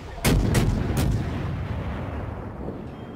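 Naval guns fire in the World of Warships video game, three heavy booms close together with a long rumbling tail that slowly fades.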